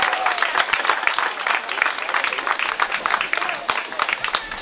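An audience claps in dense, sustained applause at the opening of a summer puppet festival in Yerevan, loud and close, with a few voices faintly beneath.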